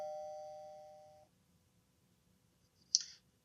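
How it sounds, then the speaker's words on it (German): A Goliath IP intercom doorbell chime rings out clearly, a single sustained ding that fades over about a second, followed later by a sharp click. "ich laufe mal an meine Klingel, betätige die Klingel"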